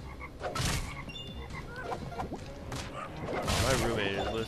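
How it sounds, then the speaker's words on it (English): Evil frogs in the South Park: Tenorman's Revenge video game let out a few croaks among thuds and game effects, while players talk over them. "And then we got ourselves the evil, evil frogs."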